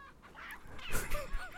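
A chicken in the video game Resident Evil 4 gives a short, sudden squawk and cluck, brief and fairly faint, with no voices.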